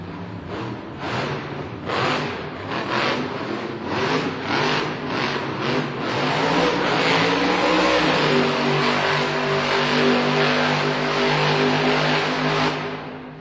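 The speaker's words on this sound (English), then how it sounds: "Making that engine roar in those donuts." A loud monster truck engine roars and revs in repeated surges while doing donuts at an indoor arena competition in Green Bay, Wisconsin, then settles into a sustained heavy growl, close and powerful.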